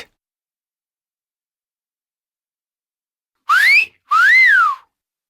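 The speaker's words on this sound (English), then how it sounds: "Whistle." Two short rising-and-falling whistles, clear and close, after a long stretch of silence.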